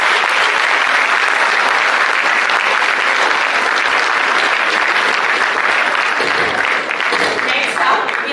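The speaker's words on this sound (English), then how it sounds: "can we have a big round of applause for this?" Dense, sustained applause from a large audience at a startup expo, loud and continuous throughout with a faint crowd murmur beneath.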